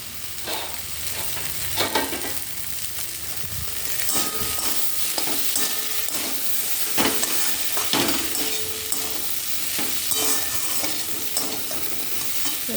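Boiled dal and soybean sizzle and fry in a pan for a curry, with steady crackling, bursts of spattering, and repeated scraping strokes of a spatula stirring throughout.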